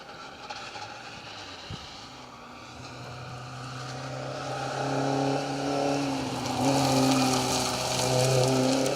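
Peugeot 205 rally car on a forest stage of the Roger Albert Clark Rally, its engine drone rising steadily from distant to near as it comes into view and approaches, no talk.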